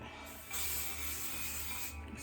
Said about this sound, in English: Spray it all around